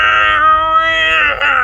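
A man imitates a cat meowing, one drawn-out, loud, nasal meow held for over a second, close to the mic with nothing else behind it.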